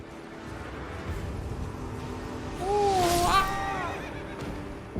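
A horse neighs in the Elden Ring video game, one rising and falling whinny in the middle of the clip over a low background hum.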